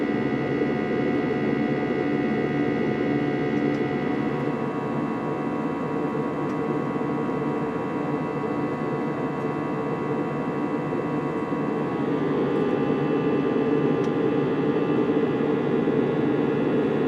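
Steady airliner cabin roar during a flight out of LaGuardia, a dense broadband drone with a low hum that stays loud and unchanging throughout, with no talking.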